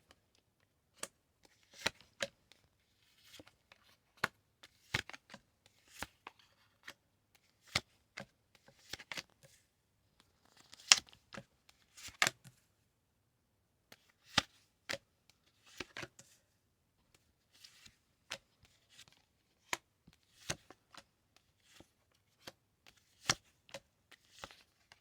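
Tarot cards are shuffled and handled close to the microphone, sharp irregular riffles and slaps scattered through a quiet room, with no talk.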